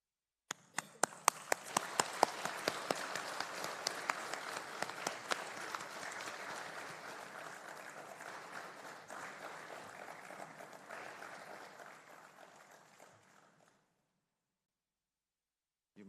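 A hall of university graduates at a convocation ceremony breaks into sustained applause for their parents, a dense wash of clapping that swells, holds, then tapers off into silence.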